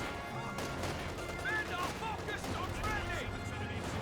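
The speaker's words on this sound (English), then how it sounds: "Got a bunch of guys shooting each other." Squads exchange fire in Company of Heroes 2, with a steady dense patter of rifle and machine-gun shots and small impacts over a continuous battlefield din, some chirping effects mixed in, and no clear pauses.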